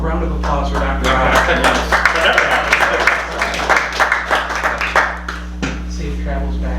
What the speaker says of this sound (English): A round of applause for Dr. Rob.